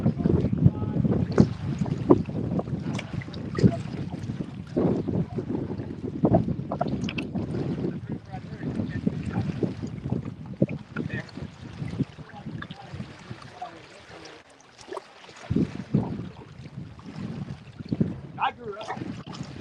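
Strong wind buffets a fishing boat on a river during winter catfish fishing, a continuous low rumble of gusts and microphone wind noise with water sloshing, and voices talking intermittently throughout.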